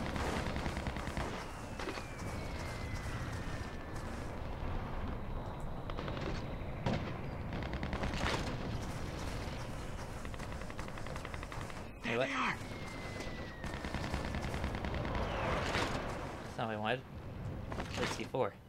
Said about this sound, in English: I think it's like a Smith & Wesson M70-something, or... It's like this weird submachine gun.